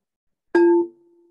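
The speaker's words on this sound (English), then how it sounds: "At the sound of the tone, we begin 1 minute of meditation." A single clear chime or singing-bowl tone signals the start of a minute of meditation in a hatha yoga class, striking sharply after brief silence and then ringing out in a long, steady, fading hum.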